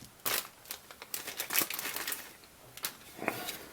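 A plastic bag holding the cab section of a 1972 Pickup Racers Wedge MPC 1/25 scale model kit crinkles and rustles in close, irregular bursts as it is cut open.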